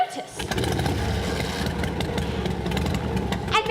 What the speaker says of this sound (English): the sound of motorbikes drew our notice